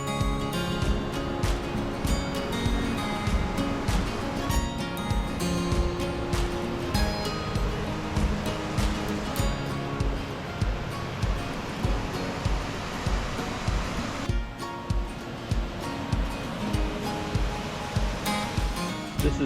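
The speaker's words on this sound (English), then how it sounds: "This is where the Temperance River spills into Lake Superior." The Temperance River spills into Lake Superior, a loud broadband roar of rushing water and breaking waves that stays constant and close, alone with no voices.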